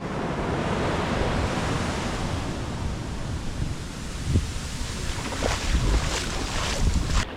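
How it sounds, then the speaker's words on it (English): Rough ocean surf at Puerto Escondido beach, a continuous loud wash of breaking waves with wind buffeting the microphone and swelling crashes toward the end, no speech. "I'm going to take a little dip in this rough, wavy water"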